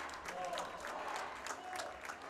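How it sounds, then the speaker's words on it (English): Hockey fans at a rink in a college club national championship game chant for NC State, a steady crowd roar with rhythmic swells, faint and far off in a reverberant arena. "You can hear the Wolf Pack chants in the background for the NC State team."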